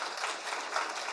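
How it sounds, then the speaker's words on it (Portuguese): Church congregation applauding, a brief, fairly faint and even patter of many hands clapping. "Uma salva de palmas, Senhor Jesus"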